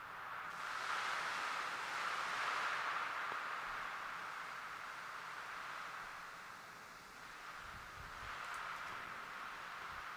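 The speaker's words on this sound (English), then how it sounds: "A little bit of fuzz." A noise texture built in Ableton with vinyl crackle, heavy reverb and fuzz distortion gives a continuous, broad hissing wash that swells and eases slowly, with no distinct hits.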